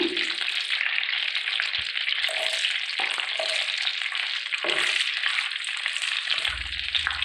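Green chillies fry in oil over a low flame for lemon rice, giving a steady, close crackling sizzle throughout with a few soft stirring knocks and no talking.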